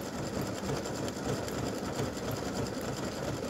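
Embroidery machine stitching free-standing lace earrings, a continuous dense mechanical whir with rapid needle rhythm, close and steady throughout.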